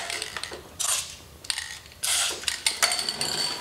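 A recliner legrest mechanism is worked back and forth, giving repeated ratcheting clicks and metallic clatter in irregular bursts, close and fairly loud.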